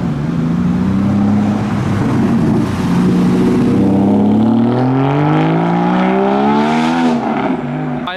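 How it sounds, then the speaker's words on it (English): A yellow Lamborghini supercar at a car meet drives past loudly and close. Its engine note holds steady, then rises as it revs and accelerates, with no talk over it. "I have just spotted a yellow Lamborghini coming into the meet."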